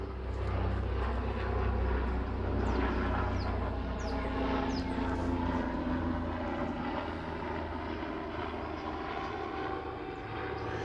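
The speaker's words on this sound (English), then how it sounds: "Yeah, I live close to the airport." An airplane passes low over a home near an airport, a loud, steady engine roar that holds for about ten seconds and eases slightly toward the end, with no talking over it.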